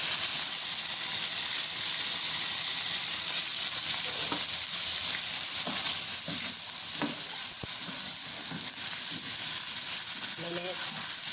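Yogurt and salt frying in a karahi for a coal-cooked karahi dish, a steady hissing sizzle with occasional soft stirring knocks and faint voices in the background.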